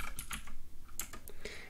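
Fingers tap out a formula on a computer keyboard, a quick irregular run of light clicking keystrokes, close and fairly quiet, with no talking.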